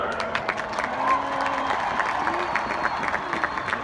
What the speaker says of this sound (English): Please give another round of applause for our twirler.